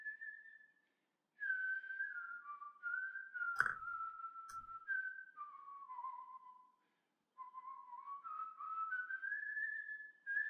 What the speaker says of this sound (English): This whistling is terrible.